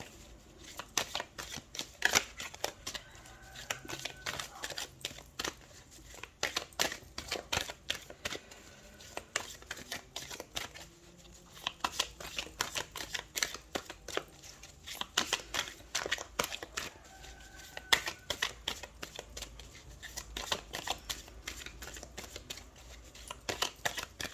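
Tarot cards being shuffled by hand in a quiet room, a long run of quick, close riffling and flicking bursts in an uneven rhythm, no talking.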